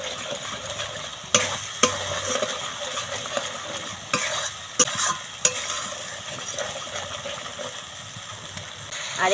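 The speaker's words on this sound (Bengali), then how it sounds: "জিরে গুঁড়ো লবণ চিনি সমস্ত কিছু ভালো করে কষিয়ে নেব" Cauliflower paneer masala sautéed with cumin powder, salt and sugar, giving a steady close sizzle broken by repeated spatula scrapes and knocks against the pan, loud and without talking.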